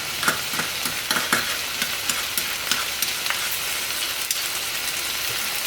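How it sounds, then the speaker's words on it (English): Mirin being mashed into broth in a pot for a Japanese meal, with soft wet stirring and squishing and light clinks repeating steadily, sizzle-like and close. "Knock the mirin into the broth and start mushing it down in the broth"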